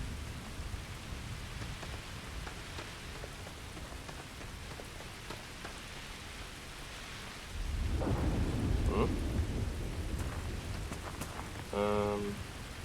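Steady hiss of rain from a thunderstorm in the game Starfield, with a deep, loud thunder rumble rolling in about midway and lingering, then a short tonal chime near the end.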